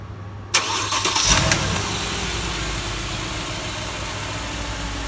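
A Mercedes-Benz car engine cranks and catches after a brief quiet, then settles into a steady idle that runs on to the end.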